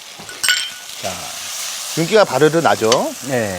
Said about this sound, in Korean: 지금 담으면은 프라이팬에서 계속 소리가 나는 게 들리시죠?